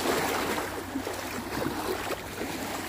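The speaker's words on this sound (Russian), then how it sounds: "Такой хороший шум воды, такой прям" Sea waves washing onto a beach in Italy, a soft, continuous broadband wash of water that stays steady and fairly loud throughout, with no voices.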